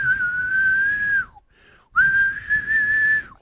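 A party whistle blown in two long, steady, shrill blasts separated by a short gap, each ending with a quick downward slide in pitch, loud and close with no talking.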